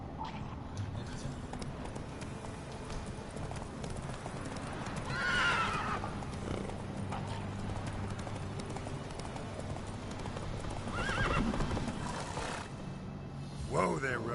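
Roach, a horse in The Witcher 3, clip-clops along at a trot and lets out loud whinnies twice, with hoofbeats steady underneath and a voice speaking at points.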